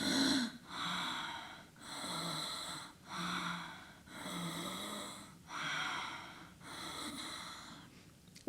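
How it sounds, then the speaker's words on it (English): Slow, rhythmic snoring-like breaths through an open mouth, about seven rasping cycles with brief pauses between them, close and fairly soft. "we are pulling it up into the snoring passage, so you will make that sound"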